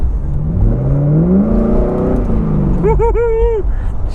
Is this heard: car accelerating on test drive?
yes